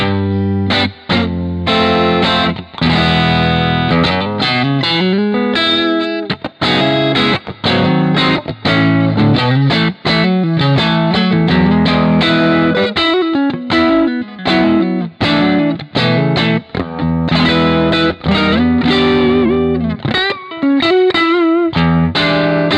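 Electric guitar through an AmpliTube 5 preset, a Marshall-type amp tone, plays loud, continuous distorted riffs and sustained bends with dense chords and lead phrases throughout, with no talking.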